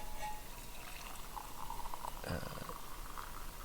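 Hot water pours over finely ground single-origin Colombian coffee at a canoe campsite, a soft continuous trickle with a brief louder splash midway and no talk.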